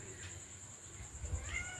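A house cat meows faintly and briefly near the end, over a low steady background hum; no other clear sounds.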